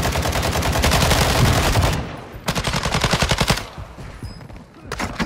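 Rapid gunfire in a battlefield video game, loud bursts of automatic shots in two long volleys separated by a short lull, then a final brief burst, close and dense.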